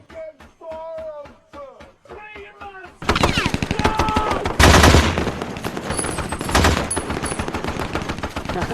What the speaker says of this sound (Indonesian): Chris yang menembak secara membabi buta di atas Humvee